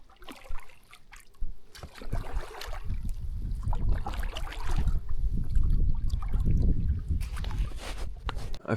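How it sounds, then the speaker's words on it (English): Kayak paddling on a lake channel at a remote campsite, with irregular splashes and water trickling off the blades over a steady rush, close by and unaccompanied by speech. "I've paddled my way to the beginning of the channel"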